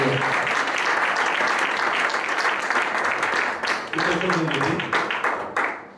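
A church congregation claps and cheers in loud, sustained applause that fills the room, with voices calling out over it before it tapers off at the end.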